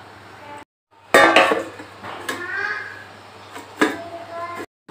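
A lid goes over a bowl of kneaded dough for parathas with a few close metallic clinks and clatters, and faint voices sound around them.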